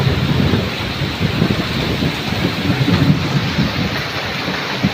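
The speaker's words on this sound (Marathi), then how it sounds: "खूप जोरात पाऊस येतोय मित्रांनो, खतरनाक पाऊस आहे." Torrential pre-monsoon storm rain with thunder and wind, a steady, close, loud wash of falling water with deep rumbles rolling beneath it, no voices.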